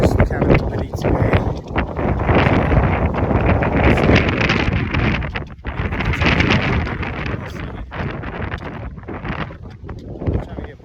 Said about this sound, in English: hopefully this wind dies down